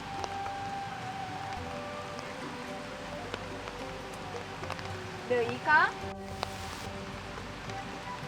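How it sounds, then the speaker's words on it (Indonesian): Light rain falls outdoors in the Sundanese countryside as a soft, steady hiss throughout. A brief voice is heard near the end. "geuning hujan"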